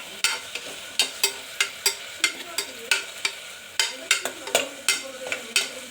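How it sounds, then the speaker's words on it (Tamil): Tomatoes cooking in a pan for a Tamil rice and dal dish, heard as a regular run of sharp spatula scrapes and taps, about two or three a second, over a soft sizzle, close and without talk. "தக்காளி வந்து பார்த்தீங்கன்னா 1 நிமிஷம் நல்லா வேகணும்"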